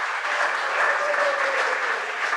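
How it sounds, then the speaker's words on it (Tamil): An audience claps steadily to welcome a speaker at a Tamil Deepavali talk event, a dense, even applause that carries at moderate loudness from start to finish. "நல்ல கைத்தட்டி அவரை வரவேற்குமாறு."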